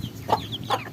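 A chicken gives two short, close clucks with a bit of quiet between them, while homing pigeons are being caught nearby.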